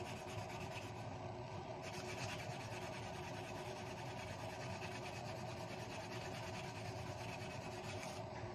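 Steady rasping of sandpaper rubbed back and forth on wood, continuous and close, with no talking.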